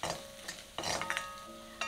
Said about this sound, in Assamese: এতিয়া সকলোখিনি মছলা ভালদৰে ভাজি লৈছোঁ